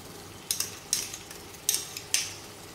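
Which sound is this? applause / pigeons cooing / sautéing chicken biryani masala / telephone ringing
sautéing chicken biryani masala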